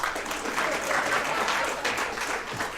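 An audience at a live show claps steadily and loudly for a performer, a dense wash of applause sustained throughout with no break.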